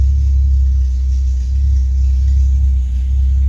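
A car burns premium fuel and runs at a steady idle with a low, even engine rumble, close and loud throughout, with no talking.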